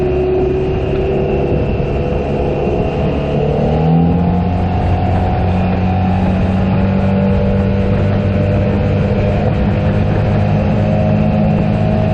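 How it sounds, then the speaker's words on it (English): A KYMCO AK550 or SYM TL508 maxi-scooter runs nearby with a smooth, steady exhaust note and a quiet engine, its pitch rising slightly midway, loud and continuous with no talk. "it's quiet engine, except the sound of the exhaust that is coming very nice"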